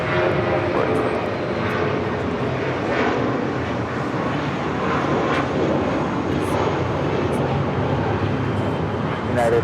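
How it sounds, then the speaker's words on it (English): Spirit Airlines Airbus A320 taking off from Los Angeles International Airport, a steady broadband jet roar holding loud and even throughout, with faint voices mixed in beneath the engine noise. "That was Spirit Airlines Flight 709 heading to Detroit, Michigan on that A320."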